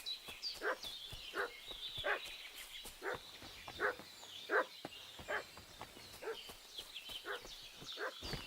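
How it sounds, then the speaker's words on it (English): A dog barks repeatedly in the medieval video game Kingdom Come: Deliverance II, a steady series of sharp mid-distance woofs over light ambient background. "What's that dog making such a fuss about?"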